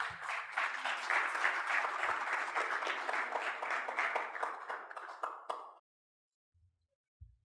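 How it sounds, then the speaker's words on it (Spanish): An audience applauds a sports journalist called to the stage at a sports forum in Panama, with steady dense clapping that fades to silence, followed by a couple of faint thumps. "Fuerte aplauso."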